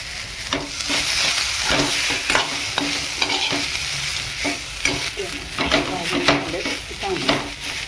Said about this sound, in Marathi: खोबरं पण आता टाकून घेतलेलं सुकं खोबरं.